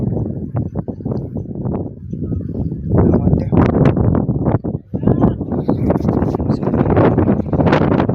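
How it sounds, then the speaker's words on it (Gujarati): Strong wind buffets the microphone in rough gusts over the churning rush of sea waves at Diu, loud and continuous. "એ રીતના છે મોજા. પવન પણ છે."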